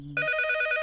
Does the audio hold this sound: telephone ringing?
yes